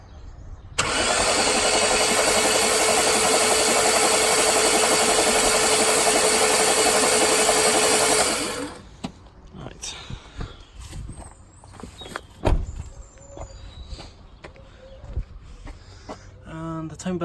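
A boat's car-derived engine cranking over and running loudly and steadily for about eight seconds, then cutting off to quieter clanks, taps and workshop sounds.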